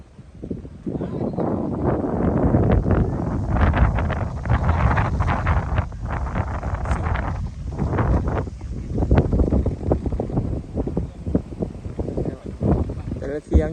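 Strong, dry, cold wind blows in the countryside where hired workers are cutting trees, buffeting the microphone in a loud, continuous rumble for the whole stretch, with a voice talking over it.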